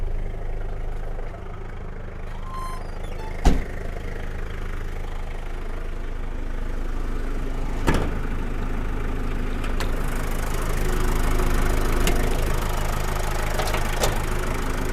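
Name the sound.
car engine idling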